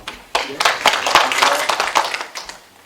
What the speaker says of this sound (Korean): 대표님 박수 한 번 더 부탁드립니다.